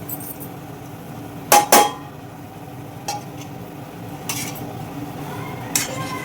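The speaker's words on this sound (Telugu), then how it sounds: "చక్కగా ఒకసారి ఇలా కలిపేసుకుని దీన్ని ఉడకనిద్దాము మెత్తగా ఉడికిపోవాలి" A spoon clinks against a pot while fried vermicelli is stirred into boiling water, a few sharp scraping taps spaced apart over a low steady bubbling hiss.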